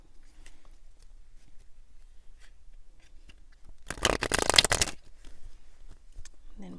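Tarot cards are shuffled in one dense, papery riffle burst lasting about a second, loud and close after a quiet stretch, with no talking.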